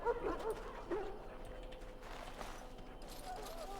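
A dog whimpers a few times in the video game Dragon Age: Origins, with short soft high whines early on over quiet ambient game sound.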